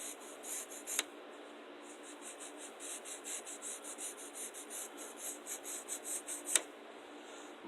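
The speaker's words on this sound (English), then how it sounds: "Now we're going to draw the rest of the outline for the legs." Pencil drawing leg outlines on paper, a steady scratchy rubbing in short strokes close up, with two sharp taps near the start and end; no talking.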